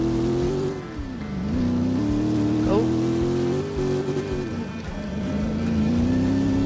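A donk car's engine revs steadily and loudly up close, its pitch rising and falling through the gears during a road drift session, with someone talking over it.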